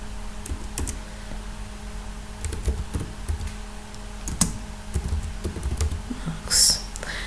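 Keys clack irregularly on a computer keyboard while a chart title is typed into a Microsoft Excel graph, with scattered close taps over a quiet room hum and no talking.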